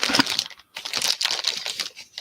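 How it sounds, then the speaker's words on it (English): A plastic bag crinkles and rustles as an item is slipped into it, in close, sharp bursts with a short pause partway through, and no talking. "put that in a plastic bag right now"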